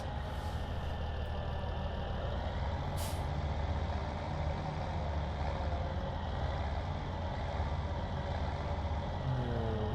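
A tractor engine idles in the Farming Simulator 17 game, a steady, unbroken low drone holding level throughout with a faint hiss near the start and no talk.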